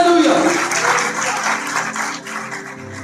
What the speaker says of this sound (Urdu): زوردار تالیاں دیں،